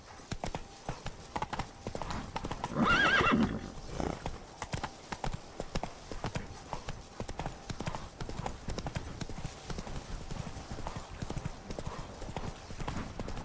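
Roach the horse in The Witcher 3 walking steadily, a continuous run of close clip-clopping hooves with a brief snort or whinny early on, and no talk over it.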